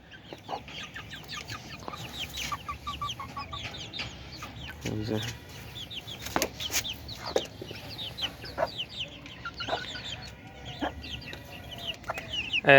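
Many small chirps of a lone chicken chick calling repeatedly, close by, with some background fowl and faint voices.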